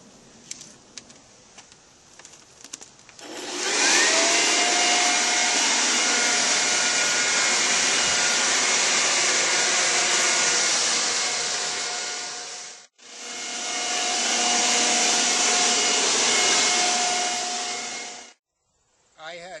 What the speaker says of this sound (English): I'm going to just dry it up with a leaf blower